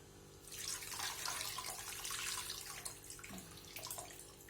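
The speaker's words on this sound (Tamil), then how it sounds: "கொஞ்சம் புளி தண்ணி ஊற்றுறேன்." Tamarind water pours in a steady splashing stream for a few seconds, then trickles and drips as it tapers off.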